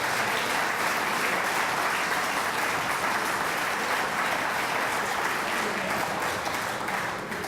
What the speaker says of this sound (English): can we give them a round of applause for all they do?